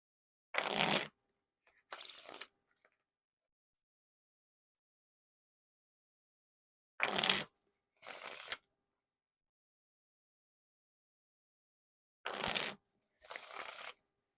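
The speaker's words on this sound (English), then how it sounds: "Now on to the Riffle Shuffle or Bridge Shuffle." Riffle or bridge shuffling of a smooth deck of playing cards, three separate shuffles each made of two quick crisp bursts of riffling, close up with silence between them.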